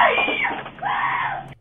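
A woman or girl screaming inside a house as armed intruders break in, two harsh, strained shrieks heard close and loud, then an abrupt cut to quiet.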